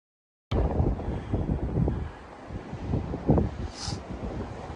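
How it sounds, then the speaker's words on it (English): Blizzard wind buffets the microphone in long, loud, rumbling gusts during a walk along snowy Regina streets, with a continuous roar that rises and falls. "The wind will be behind me when I turn the corner"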